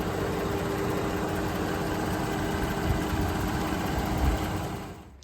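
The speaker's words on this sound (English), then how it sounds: "you can clearly hear it somewhere up in this front valve train" A Dodge Charger engine idles with a bad valve train noise from the front, a steady close mechanical drone with ticking texture that cuts off near the end; no one speaks.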